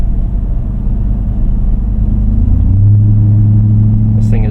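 A Ram TRX pickup truck's engine rumbles loudly from inside the cab while driving, a deep steady drone that swells as the revs climb near the end.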